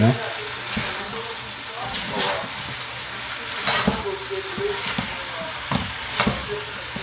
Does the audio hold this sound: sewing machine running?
no